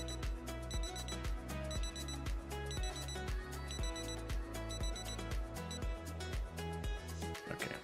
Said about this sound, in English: I don't want to listen to alarm.